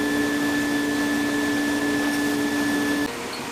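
A laser cutting machine runs with a steady, loud whirring hum of fans and motors plus a constant tone, alone with no talk, dropping to a quieter hum near the end.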